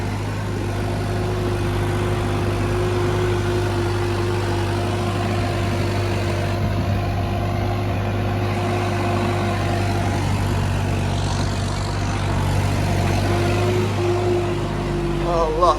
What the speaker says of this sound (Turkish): Şöyle size bir traktörün sesini de dinleteyim.